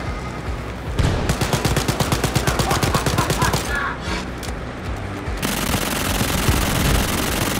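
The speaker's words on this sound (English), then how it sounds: "Submachine pistol!" Rapid bursts of submachine pistol fire ring out in the shooter Wolfenstein: Youngblood, a fast rhythmic string of sharp shots, a brief lull, then dense continuous battle noise with heavy booms.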